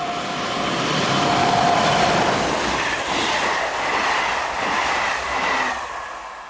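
A commuter train, headed by locomotive number 9634 on the early-morning Avignon to Béziers service, rolls through a small resort town in southern France, a steady, loud rush of wheels and rail noise with faint clatter, swelling and easing without speech.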